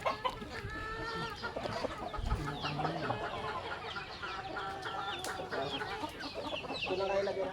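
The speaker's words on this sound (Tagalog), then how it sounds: "Purma talaga itong manok na ito." Chicken clucking in a loose, repeated run of short calls, close and moderately loud, with a low background murmur and other birdlike chatter around it.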